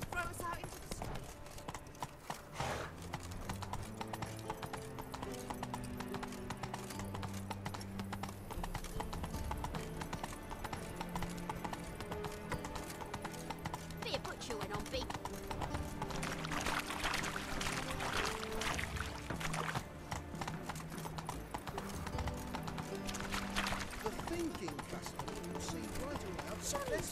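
Roach, Geralt's horse in The Witcher 3, trots with steady clip-clop hoofbeats throughout, set against a continuous game soundtrack of music and ambience, with a character's voice speaking over it.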